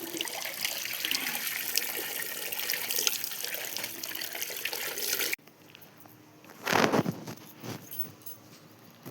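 Water running and splashing as bedding and clothes are washed by hand, a steady rushing flow for several seconds, then a quieter stretch with a couple of louder gushing pours near the end.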